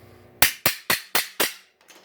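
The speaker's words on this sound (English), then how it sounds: "Hammer it a little bit." Five sharp metallic hammer strikes on a sheet metal car hood resting on the floor land in an even rhythm, each ringing briefly before the next, close by, followed by a faint tap.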